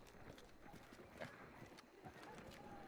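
A video game horse clops along in quick, uneven hoofbeats, faint beneath a bed of background game noise and ambience.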